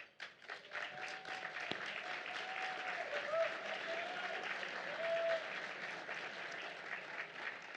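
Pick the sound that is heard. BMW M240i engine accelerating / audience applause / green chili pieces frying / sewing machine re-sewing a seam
audience applause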